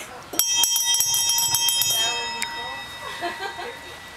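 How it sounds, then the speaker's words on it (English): A child rings the bell on a zoo train: a quick run of bright, ringing strikes in the first two seconds, one more strike shortly after, then voices talking while the tone fades. "He's having fun ringing the bell."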